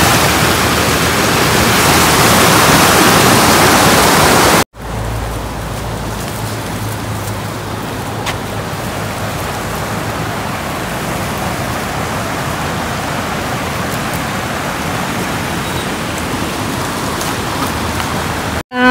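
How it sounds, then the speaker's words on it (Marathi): A river flowing near a dam, heard as a loud continuous rushing wash that drops back after an abrupt cut, steady for the rest with no voices. "इतकं छान नदी वाहते ना."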